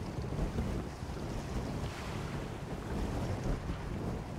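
Sailboat gliding before the wind in the video game Windbound, a steady broadband rush of wind and water wash with no distinct events, continuous and fairly even throughout.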